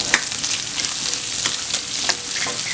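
Ten small shallots fry in a pan for a chutney with coriander leaves, giving a close, continuous sizzle broken by sharper pops and stirring scrapes.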